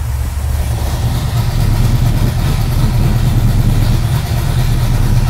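A 1969 Dodge Charger R/T restomod V8 idles loudly and steadily with exhaust cutouts open, a deep rumbling exhaust throbbing without a break, close by.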